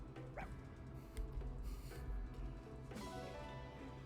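Small high yips and soft barks from a puppy pop up a few times over a low, steady game background.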